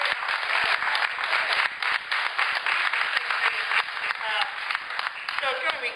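Steady applause fills a press conference room, dense clapping from many people sustained throughout without a break.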